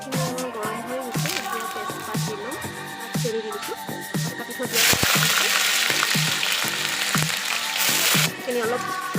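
Steady frying in hot oil in a kadai, with a loud sizzle that swells midway, along with scattered clicks of stirring and a voice speaking now and then.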